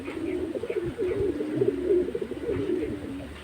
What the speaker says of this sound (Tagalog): Live pa yung dalawa nating ibon.